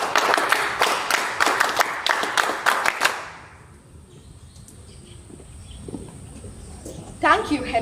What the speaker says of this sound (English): Cadets, NCC clap